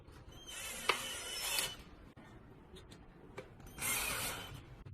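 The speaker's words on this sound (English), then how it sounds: "Tighten screws." Screws being tightened on a sliding door fitting for a frameless hanging door, giving two bursts of close, rasping mechanical creaks and ratcheting with a short quiet gap between them and no talk.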